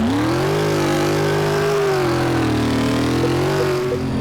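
A supercharged V8 engine in a Rino Piccolo from the Car Mechanic Simulator 2018 game revs loudly and steadily, its pitch climbing, holding and wavering slightly in a continuous close roar.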